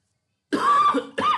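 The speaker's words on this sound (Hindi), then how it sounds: "थोड़ा खांसी भी आ रही है" Two harsh coughs close up after a moment of silence, the first longer, the second short.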